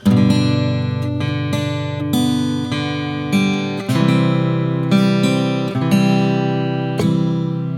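Acoustic guitar plays the third line of Silent Night as a slow chord melody, plucked notes and strummed chord shapes ringing out one after another, clear and close with no voice.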